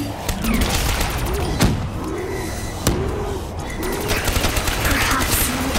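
Gunfire from the Origins Easter egg in a first-person shooter game; sharp shots crack out over a dense, busy game din with recurring swooping effects, loud and close throughout.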